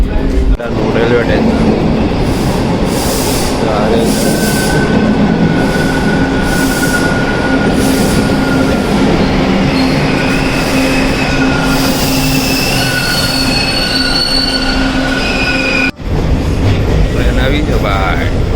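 A train pulls into a railway station in Toronto, Canada, loud and close, with a continuous roar, high wheel squeals and rhythmic clatter. Muffled voices sit under the noise, and the sound briefly cuts near the end.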